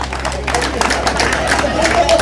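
Audience at an agroforestry awareness gathering claps steadily and densely through the whole moment, the applause mixed with crowd murmur and nearby talking.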